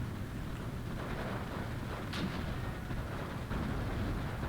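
Artillery firing in a strategy video game, heard as a steady, dense rumble of distant battle with a couple of sharper shot cracks cutting through, no talking over it.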